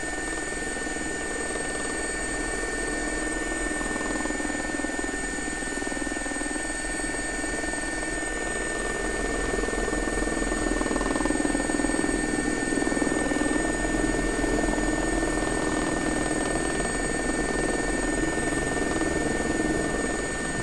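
A JRX SA342 Gazelle helicopter in a flight simulator, with a steady rotor and turbine drone and high whine tones running throughout. The sound holds at an even, moderately loud level and swells slightly midway, with no voices.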